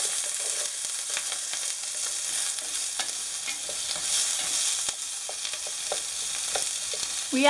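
Onions and peppers sauté in oil in a skillet, giving a constant hissing sizzle with scattered light clicks and scrapes of stirring, close and even in level, no talking.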